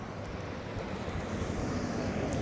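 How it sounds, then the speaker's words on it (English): Water of Little Indian Creek rushes steadily beside Bicentennial Park in Corydon, Indiana, a broad continuous wash with some wind noise, no voices. "Actually, this is a creek."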